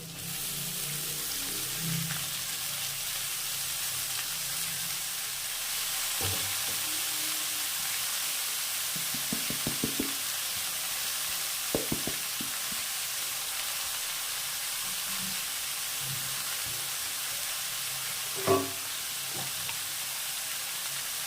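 Chopped, washed pea greens frying in a pan with potato, eggplant and beans, a steady close hiss of sizzling oil with occasional soft stirring scrapes and clicks, one sharper knock near the end.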